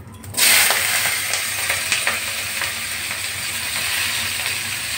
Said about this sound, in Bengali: এবার আমি পেঁয়াজগুলো দিয়ে দিচ্ছি।